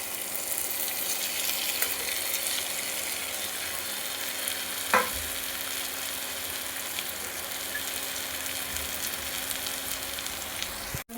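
Boiled egg pieces go into a pan of well-fried spice masala, giving a steady close sizzle with one brief clatter partway through, then continued even frying with no voices.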